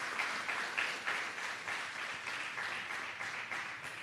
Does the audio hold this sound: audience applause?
yes